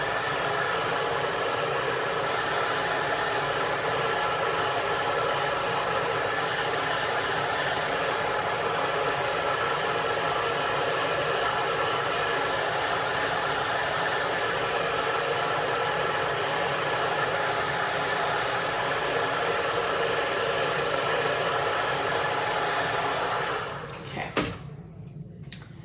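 A hair dryer blows on a chalk drawing, a loud, steady, close roar that holds for about twenty-four seconds before cutting off abruptly.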